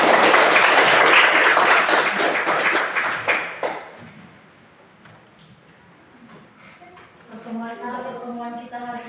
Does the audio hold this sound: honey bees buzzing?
no